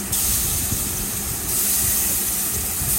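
A pressure cooker cooking ilish fish with taro vents steam in a loud, steady, close hiss that runs unbroken for several seconds, brightening slightly partway through.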